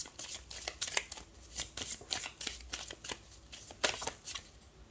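Tarot cards being shuffled in the hands, a run of quick riffling bursts and soft slaps that come in uneven clusters, close up and fairly quiet, with no one speaking.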